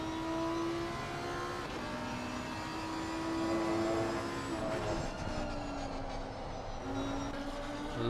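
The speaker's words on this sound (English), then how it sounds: "Love the sound of those straight cut gears." GT3 race car on track at the Nürburgring with straight-cut gears whining, a sustained tonal whine that shifts pitch through gear changes over a loud engine roar, and no talk.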